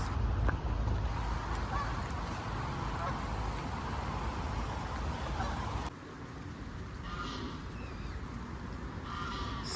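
Ducks and swans on a rainy day out give scattered honks and quacks under a broad wash of rain and ambient noise, moderately near, with some voices in the background.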